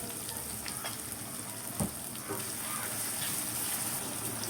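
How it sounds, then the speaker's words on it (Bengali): Onions sizzle in a pan on a stove while chicken breast bhuna is being cooked. A steady, fairly soft crackling hiss carries throughout, with a brief stirring clatter near the middle. "চুলা পেঁয়াজটা বসাই দিলাম। পেঁয়াজটা হালকা লাল হইলে"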